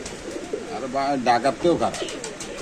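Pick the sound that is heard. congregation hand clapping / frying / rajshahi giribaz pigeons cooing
rajshahi giribaz pigeons cooing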